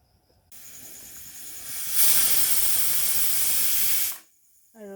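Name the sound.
pressure cooker whistle releasing steam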